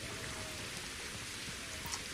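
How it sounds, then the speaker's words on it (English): Steady rain from the video game Legends of Ellaria, an even hiss of falling drops pattering on surfaces, continuous and fairly soft with no other sounds. "So you can hear the new rain sounds."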